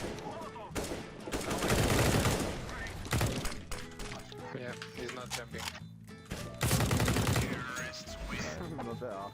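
Gunfire rattles in a first-person shooter game, with bursts of close automatic shots and scattered single cracks alongside other game effects, while a player talks over parts of it.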